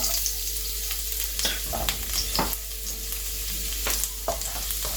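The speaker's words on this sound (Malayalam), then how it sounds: "എണ്ണ ചൂടായി കഴിയുമ്പോൾ അതിലേക്ക് നമുക്ക് അരിഞ്ഞു വെച്ചിരിക്കുന്ന 2 ടേബിൾ സ്പൂൺ വെളുത്തുള്ളി" Two tablespoons of finely chopped garlic sizzle in hot oil for egg fried rice, a loud steady crackle close up, broken by several sharp stirring scrapes, with no voices.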